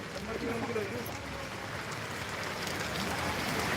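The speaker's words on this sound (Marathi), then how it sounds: "पाऊस वाढलाय आता" Rain keeps falling as a steady broadband hiss, with water pooling all around, while people talk over it nearby.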